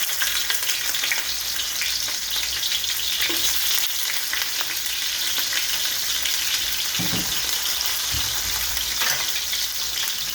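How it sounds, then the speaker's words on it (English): Onion frying in hot oil in a kahari for a duck curry gives a loud, continuous crackling sizzle, with occasional soft stirring bumps beneath it and no talk. "Now we got to add the onion to the oil."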